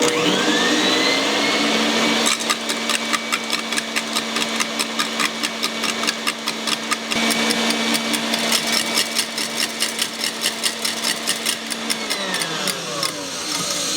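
Electric mixer whirring steadily on high speed as egg whites are beaten with sugar for a gluten-free Yule log meringue, a loud continuous motor drone with rhythmic beater clatter against the bowl throughout.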